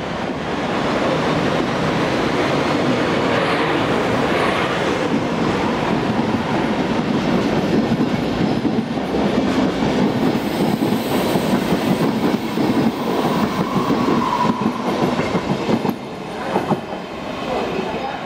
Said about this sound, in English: This is the station at Münster, as 111020 departs with a train for Rheine.